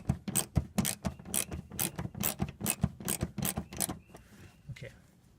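A hand ratchet snugs up a mud guard screw on a Chevrolet Cruze, a rapid run of close, crisp clicking strokes that slows and fades near the end.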